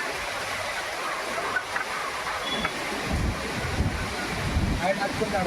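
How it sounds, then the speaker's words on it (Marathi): Strong, gusty wind roars steadily beside a coastal creek in the Konkan during a stormy first monsoon rain, with rushing broadband noise, microphone buffeting and swelling lower gusts toward the end. "सोसाट्याचा वारा कसा वाहतोय."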